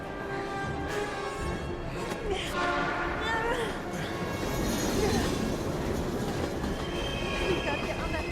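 A train rolls by in the video game Heavy Rain, with a steady loud rumble of wheels and rail noise and some squealing, under urgent shouted voices.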